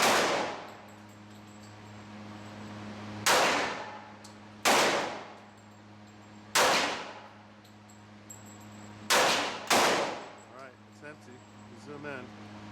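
Several loud .45 ACP pistol shots at an outdoor range, five sharp reports spaced a couple of seconds apart with ringing decay, over a steady background hum and faint talk.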